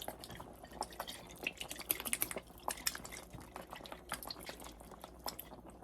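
Liquid bubbling and popping in a pot of chicken and pineapple stew, with irregular small drips and gurgles, close and fairly quiet, no voices.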